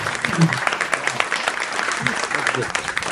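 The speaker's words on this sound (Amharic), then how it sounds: "አንዴ እንደገና ሞቅ ያለ ጭብጨባ" Brief burst of audience applause at a Christmas holiday show, steady clapping throughout, with a voice speaking over it.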